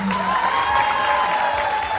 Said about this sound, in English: One last round of applause for our judges, everyone.